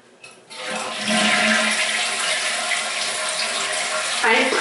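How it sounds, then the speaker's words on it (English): A household toilet flushes in a strong, steady rush of water that surges up after a brief quiet start and keeps roaring close by for several seconds, with a small gurgle near the end. "We flush the toilet."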